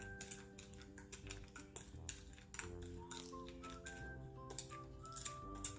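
Sugar and cinnamon being mixed together in a bowl, a steady run of light scraping and ticking utensil clicks against the bowl, close and fairly quiet, with no talking.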